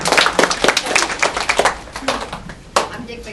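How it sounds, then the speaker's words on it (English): A short burst of clapping from a small crowd, uneven and fading after a couple of seconds, with a final loud clap near the end. "How about a round of applause for Ray"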